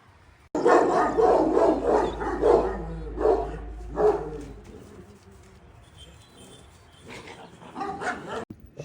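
Several Kangal dogs bark in bursts at a dog farm in Sivas, loud and close in the first half, then fading to quieter background with a few more barks near the end.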